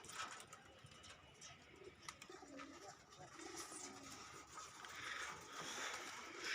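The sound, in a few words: pigeons cooing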